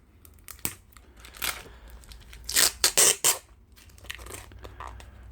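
Tape on a mailed parcel of Pokemon cards is cut and torn open, with close crinkling and ripping bursts, louder in the middle, and no speech.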